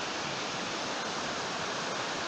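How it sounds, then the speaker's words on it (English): A babbling brook runs through a natural wooded gorge, heard as a steady, even rush of flowing water with no pauses and no voices. "You have a nice babbling brook in the background,"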